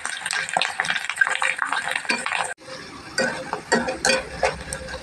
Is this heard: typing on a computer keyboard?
no